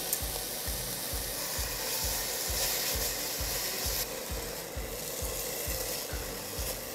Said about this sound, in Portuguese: Eu não vou deixar esse alho fritar, ele só tá refogadinho e vou adicionar o brócolis.